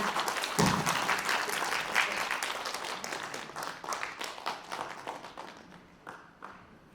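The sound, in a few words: warm applause welcoming the chairman to the stage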